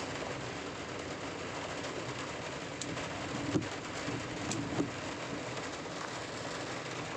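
Rain falls steadily on a rainy day out, a faint, even hiss with a few soft knocks and no talking.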